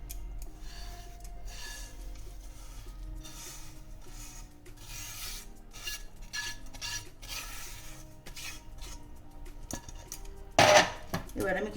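Lachha vermicelli being stirred in a pan over low gas for Eid semai, with a steady run of soft scraping and rubbing close by and one sharper clatter near the end.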